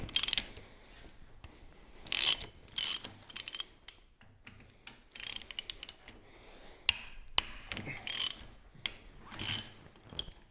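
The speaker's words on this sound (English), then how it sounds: "we're going to pull these pinch bolts out here and then slide our forks out" Ratchet loosening T45 pinch bolts on Harley Sportster forks, with several bursts of rapid clicking pawl action separated by pauses and a few metallic knocks, close and fairly quiet with no talk.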